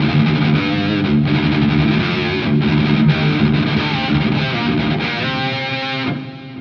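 An electric guitar played through the FAT BLOB amp simulator with reverb rings out in distorted chords, sustained and washed with a noticeably heavy reverb tail, loud and alone.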